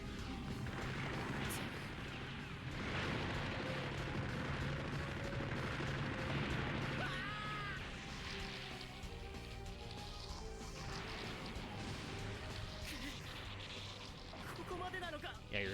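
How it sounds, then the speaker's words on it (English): Mobile suit blowing up in the SD Gundam CrossRays video game, a dense barrage of game explosions and gunfire rumbling continuously throughout, with a player talking over the din. "Yeah, your suit's kind of exploding"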